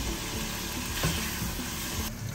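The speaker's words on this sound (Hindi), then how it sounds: "चिकन को पकाना है चिकन थोड़ा ब्राउन हो जाए" Chicken pieces fry in hot oil until lightly browned, a close, steady, hissing sizzle with a faint stir near the middle.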